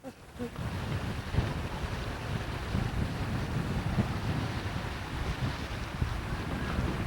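The Plymouth Duck amphibious boat splashes through water near Plymouth. A steady wash of water and wind noise runs moderately loud and continuous, with no clear talk over it.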